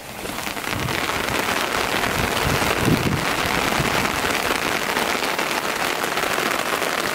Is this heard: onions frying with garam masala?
no